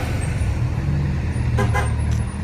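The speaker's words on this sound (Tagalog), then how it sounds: "At saka syempre, as usual, traffic." Busy street traffic in the Philippines, with car and bus engines droning steadily close by and a short car horn toot sounding twice near the end.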